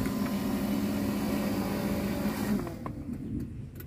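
The power memory seat of a 1991 or 1993 Cadillac Brougham runs back and down with a steady, close motor whir and hum, then stops after a few seconds.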